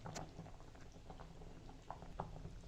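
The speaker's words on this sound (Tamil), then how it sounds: "குழம்பு பார்த்தீங்கன்னா உருண்டை போட்டதுக்கப்புறம் இப்படி தான் கொதிச்சுன்னு இருக்கு" Faint bubbling of a thick curry with dumplings simmering in a pot, with soft irregular pops and gurgles.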